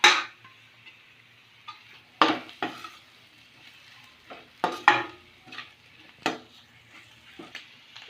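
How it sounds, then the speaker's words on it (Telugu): Pre-fried eggs and pepper are stirred into a pan for egg fried rice, a soft sizzle under repeated sharp spatula scrapes and knocks against the pan, close and irregularly spaced, with no talking. "తర్వాత ముందుగా వేయించి పెట్టుకున్న ఎగ్స్ని దానిలో వేసి కలుపుకోవాలి"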